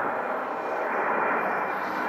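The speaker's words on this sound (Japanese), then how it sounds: "この映像は、成田空港から離陸する、UPS の 767-300F を映したものです" A UPS Boeing 767-300F cargo jet takes off from Narita Airport with a steady, broad jet roar that holds at an even level the whole time.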